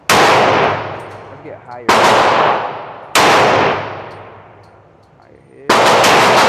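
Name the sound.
Glock 31 Gen4 pistol shots hitting steel target at range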